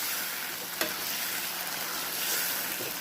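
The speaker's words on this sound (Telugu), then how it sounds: "ఇదిగో ఇలా వేసి కలుపుకోవాలి." Brinjal and broad bean curry with ginger-garlic paste is stirred in a hot pan, giving a steady sizzling hiss. A utensil scrapes and taps against the pan once or twice, and no one talks.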